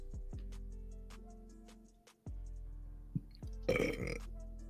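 A single close burp after drinking coffee, a short throaty eruction over a quiet room hum with steady musical tones in the background.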